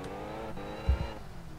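A steady, rumbling supercharged V8 car engine in the video game Test Drive Unlimited drones close by with a faint high whine on top, swelling briefly as it's revved.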